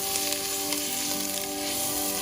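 Onion frying in a hot tadka, a brief steady hissing sizzle with a faint hum beneath, close and even.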